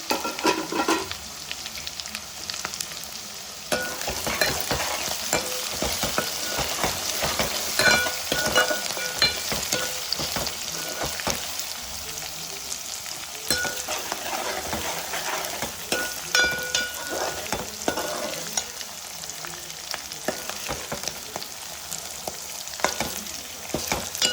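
Onion and tomato paste frying in a pan crackles with a loud, continuous sizzle while a spoon scrapes and stirs through it rhythmically, close and with no voices.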